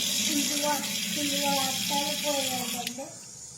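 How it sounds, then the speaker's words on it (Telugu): Water pours into a bowl of fish marinated with yogurt and turmeric in a village kitchen, a steady running splash heard close up while a voice speaks softly beneath it. "వేసిన తర్వాత కొంచెం వాటర్ పోయాలండి."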